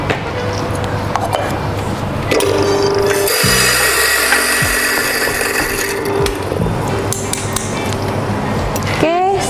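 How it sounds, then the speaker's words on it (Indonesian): Coffee beans being ground coarsely in a coffee grinder for Japanese iced coffee, a steady close mechanical whir and rattle running throughout, with a voice speaking over it. "kita giling agak lebih kasar"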